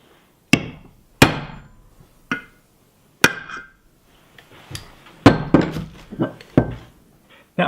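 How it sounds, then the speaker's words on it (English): Metal knockout being punched out of the middle hole on a 30W LED wall light housing, heard as a series of sharp, close hammer-like strikes and thunks, irregular in spacing, with short pauses between blows and no talking. "I also need to punch out the middle hole"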